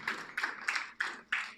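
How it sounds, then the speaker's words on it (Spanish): A church congregation claps during a sermon in five sharp, evenly spaced bursts, each one quickly fading, with no voices over them. "Alguien dele un aplauso."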